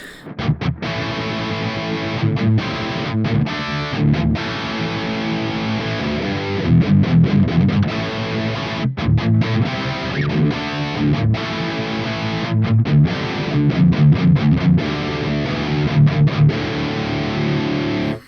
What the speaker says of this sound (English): So a really nice crunch distortion